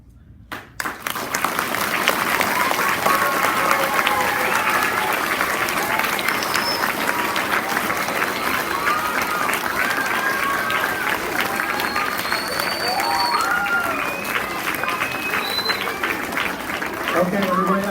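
Sustained applause from a school audience at an elementary oral language festival after a student's recitation, steady dense clapping that swells in the first second and holds near and loud throughout, with faint voices mixed in.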